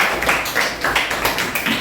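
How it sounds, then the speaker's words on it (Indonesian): Schoolchildren in a classroom give a student a round of applause, a loud, close burst of many hands clapping in a quick, slightly uneven rhythm. "Berikan tepuk tangan kepada Divya ya."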